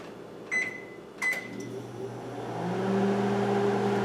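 Microwave oven heating a snack: a few short electronic beeps from the keypad, then the steady low hum of the oven running, growing slightly louder and continuing to the end, heard alone without talk.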